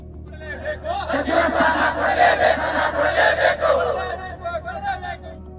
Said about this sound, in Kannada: ಜಮೀರ್ಗೆ ಜೈಕಾರ ಕೂಗಿದ್ರು.